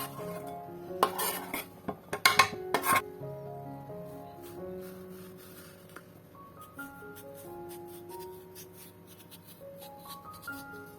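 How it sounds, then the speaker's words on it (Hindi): Chopped vegetables, including finely cut green onion, are tipped into a bowl with a short burst of clattering utensil and dish knocks, followed by soft background music. "इसमें सारी सब कटी हुई सब्ज़ी डाल दे रही हूँ।"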